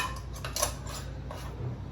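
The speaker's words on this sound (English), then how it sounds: "And then we're going to add our hot lids." Hot sterilized metal lids set onto clean pepper jelly canning jars, a few light metallic clinks and taps, quiet and close, over a faint low hum.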